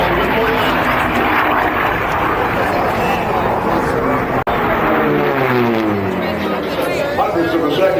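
Unlimited class racing airplanes roar overhead at the Reno Air Races, a loud propeller engine drone sweeping past with Doppler pitch shifts while an announcer talks over the noise.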